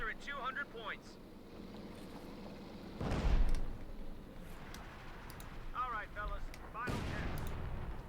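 Artillery bombardment and gunfire in a Company of Heroes 2 match between OKW and USF forces, heavy booming impacts mid-battle with scattered shots and rumbling, under game voice chatter.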